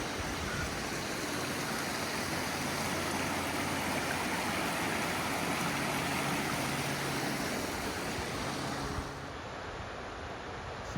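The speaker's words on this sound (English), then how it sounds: "I'm on the other side of the creek, or I suppose it's a creek now." Creek water pours below a spillway in a loud, steady rush, like a broadband roar. It runs for the whole stretch and eases slightly near the end, with no voices.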